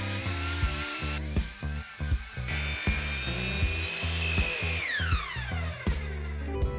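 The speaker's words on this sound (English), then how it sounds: "I used a 45-degree chamfer bit in my router table." A router table fitted with a 45-degree chamfer bit runs steadily, a loud high whine with repeated pitch dips as it cuts along the edges of epoxy cutting boards, the motor winding down near the end.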